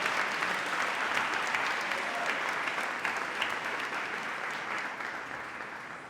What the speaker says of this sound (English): another round of applause for all the performers